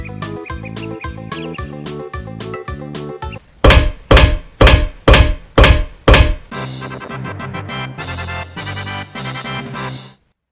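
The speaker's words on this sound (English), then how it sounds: "Are you watching somebody hammer something into a wall?" Hammering into a wall in the Silent Hill 3 video game, a run of loud, evenly spaced heavy thwacks in the middle of the stretch, with dense rhythmic metallic clanking before and after.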